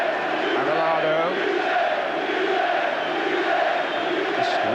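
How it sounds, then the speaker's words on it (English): Football crowd at a 1994 UEFA Champions League night match, Manchester United against FC Barcelona, a loud continuous roar with rising chant-like swells filling the whole stretch, no commentary over it. "Just listen to this crowd."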